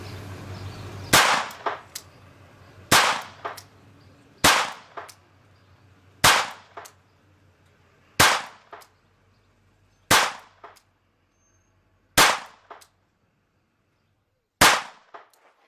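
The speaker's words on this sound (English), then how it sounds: "Shots, 15 yards." Eight sharp .22 LR revolver shots from an HS 950 fired at a target 15 yards away, spaced roughly two seconds apart, each crack loud and near with a brief metallic ring, and no voices between them.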